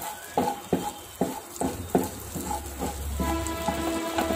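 Cumin seeds sizzle in melted butter in a pan. A series of sharp utensil taps ticks at a steady pace over a crackling fry that swells louder toward the end.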